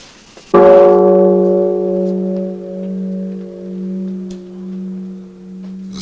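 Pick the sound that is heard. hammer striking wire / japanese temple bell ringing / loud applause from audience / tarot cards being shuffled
japanese temple bell ringing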